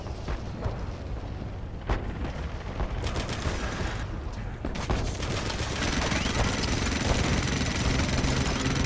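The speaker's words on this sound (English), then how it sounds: "Minigun." Rapid, sustained minigun fire from the online shooter Renegade X, a dense continuous rattle of shots that grows steadier and louder over the battle, with scattered explosions and gunfire in the background.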